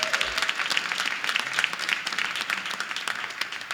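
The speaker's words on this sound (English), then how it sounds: "Let's give him a big round of applause" Dense, lively applause from a large audience for Reverend Dr. Johnny Green at a Palm Sunday gathering, continuous rapid clapping throughout at steady loudness.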